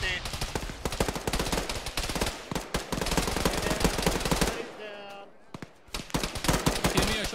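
Rapid automatic gunfire rattles in dense bursts during a ShackTac military game match. The shooting pauses briefly while a voice speaks, then the loud close shots resume.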